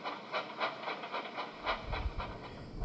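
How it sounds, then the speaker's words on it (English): A stone train rolls into a station in a Sodor railway story, steady rhythmic clickety-clack of wheels with steam hiss, rising to a heavier low rumble as it draws closer and louder. "One evening the two coaches watched as a stone train arrived"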